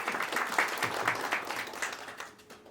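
Audience applause at a career guidance seminar, a dense burst of many hands clapping that fades out toward the end.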